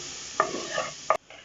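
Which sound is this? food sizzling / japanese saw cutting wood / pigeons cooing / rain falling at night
food sizzling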